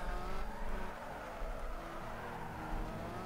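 A racing car's engine in Need for Speed Underground 2 drones steadily and fairly loud, its pitch shifting gradually under a hiss of road and tire noise, with no voices.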